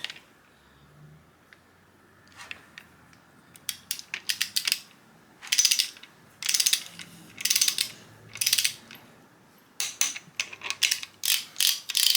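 A torque wrench ratchets on Miata engine bolts during a turbo engine build, with quiet clicks early and then repeated bursts of fast, crisp clicking strokes with short pauses between them, close and clear.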